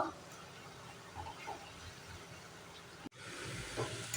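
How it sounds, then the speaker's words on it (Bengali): Bottle gourd curry sizzling and steaming in a pan, a steady soft hiss of frying with faint crackles throughout, briefly cut off and then resuming. "নেড়ে ছেড়ে দিয়ে ভালো করে একটু ভেজে নেব।"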